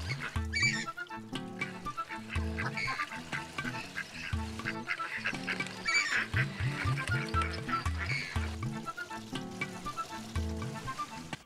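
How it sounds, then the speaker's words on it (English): Ducks quacking and honking in a steady, dense chorus alongside repeating musical tones, the calls running continuously at moderate loudness with no speech. "Those ducks sure do look out of place."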